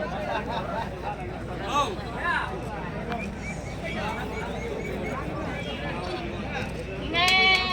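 Several sheep and lambs bleat amid a noisy crowd at a livestock market in Kadiri, with a louder, wavering bleat close by near the end over steady background chatter.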